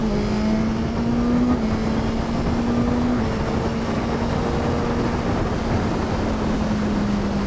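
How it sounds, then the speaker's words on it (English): A 2021 Suzuki GSX-S1000 naked motorcycle pulls steadily under acceleration while riding, its engine note holding a continuous loud drone with slowly rising pitch, wrapped in strong wind rush and no talk. "I'm not going to go crazy through the gears, but I will try and give you a bit of acceleration"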